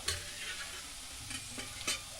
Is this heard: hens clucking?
no